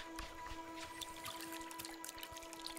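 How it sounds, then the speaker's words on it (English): Flowing, trickling water in a video game, a steady low wash with small splashy bursts continuing throughout at moderate level. "I like the water sounds."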